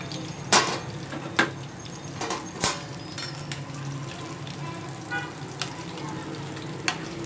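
Fish fries in a pan in a home kitchen. A steady, close sizzle runs throughout, with several sharp utensil clinks and taps against the pan.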